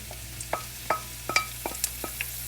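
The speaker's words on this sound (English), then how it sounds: "And then we can add in our dried chili with our pale spring onion" Dried chili and pale spring onion being stir-fried in a pan for kung pao chicken, heard as a quiet bed of sizzle broken by roughly eight separate clinks and scrapes of the spatula against the pan.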